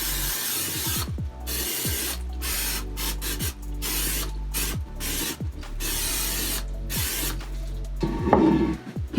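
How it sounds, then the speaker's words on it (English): Several short, hissing bursts of cooking spray into a bundt cake pan, separated by brief pauses, close by with no talking. "I'm going to be greasing it with Pam or cooking spray"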